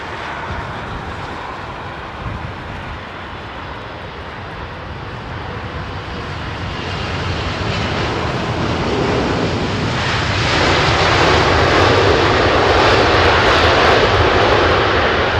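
Jet airliners arrive at London Heathrow Airport, a steady loud engine roar that builds and grows stronger toward the end as a plane passes close overhead, with no voices.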